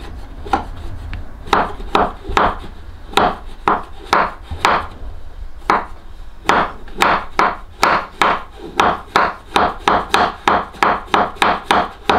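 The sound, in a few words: knife scraping along white chocolate to make garnish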